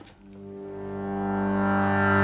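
A warm synth pad swells up slowly and holds a sustained chord, building in loudness over a couple of seconds, with no voices.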